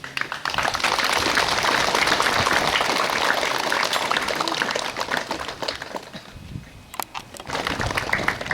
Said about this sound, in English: So would you please give all of a big applause